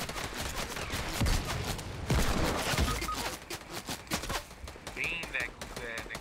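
Rapid bursts of gunfire crackle in a Fortnite match, dense and sustained, mixed with game effects while players talk over it.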